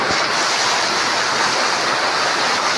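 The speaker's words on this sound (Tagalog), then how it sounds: "Yan ang ilog namin." A small river flows on a rainy evening in Kidapawan, a loud, continuous rushing wash of water close by, steady throughout with no voices.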